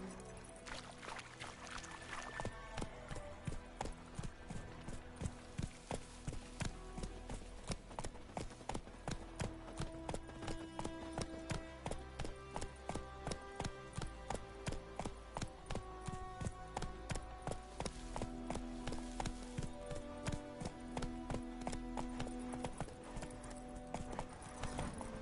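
Video game horse Roach gallops steadily, its hoof clip-clops hammering a fast, even rhythm from start to finish, close and clear with no talking over it.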